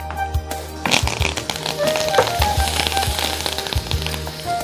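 Jackfruit pieces and curry leaves fry in a pan for a tangy Andhra-style chutney, a steady close sizzle and crackle running throughout with a burst of spattering near the start, under faint background noise.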